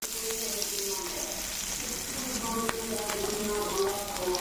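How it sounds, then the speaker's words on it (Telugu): Curry leaves fry in the same oil just used for capsicum, making a steady, close sizzle with small crackling pops throughout. "కరివేపాకు దోరగా వేయించుకోవాలి ఫ్రెండ్స్"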